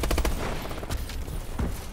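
Gunfire in the Call of Duty Advanced Warfare video game, rapid loud bursts of automatic shots at the start followed by a few more scattered reports, with no talking.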